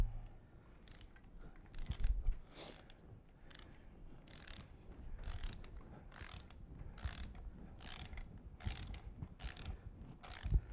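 A socket wrench ratchets while tightening bolts on a mechanical pipe joint, producing a series of about a dozen short, evenly spaced clicking strokes, fairly close and clear over a quiet background.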